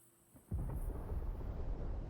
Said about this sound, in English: Sounds like thunder.